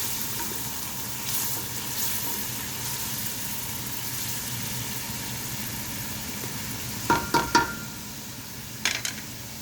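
Pulao ingredients sautéing in a pan on a low-medium flame, a soft continuous sizzle under steady background hiss, with a few brief clanks of a utensil against the pan near the end.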